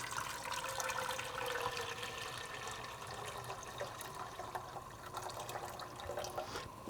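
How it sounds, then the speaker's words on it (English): Boiling water pours steadily into a pot for cooking rice, a continuous splashing gurgle at moderate volume without pause. "I already have some boiling water"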